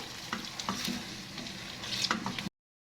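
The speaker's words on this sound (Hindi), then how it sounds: "टमाटो को सॉफ्ट होने तक भूनेंगे" Tomatoes with green chilies frying in a pot, a steady close sizzle with a few soft stirring scrapes, no voices.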